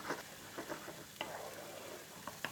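Tomato paste being stirred into oil in a frying pan, giving a quiet, steady sizzle with soft scraping strokes and a few sharper utensil taps, all fairly faint.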